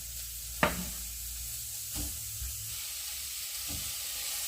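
Chopped food frying in a pan or pot for a budget porridge, a steady soft sizzle with a few sharp clicks and stirring scrapes, close and alone without talk.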